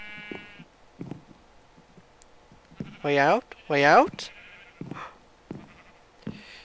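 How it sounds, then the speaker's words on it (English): Sheep bleating twice in a row in the video game Minecraft, loud and close, with a voice speaking briefly before and after the bleats. "I hear sheep!"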